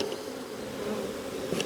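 Honey bees buzz close at the front of a beehive, a dense, steady drone of many wings with individual bees whining past.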